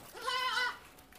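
A young goat kid bleats once in a wavering, drawn-out cry during tick dipping of goats in a large container, fairly close and clear with no talk over it.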